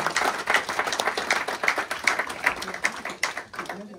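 An audience at an art exhibition opening applauds the artist, steady moderate clapping from a modest crowd with a few voices mixed in beneath.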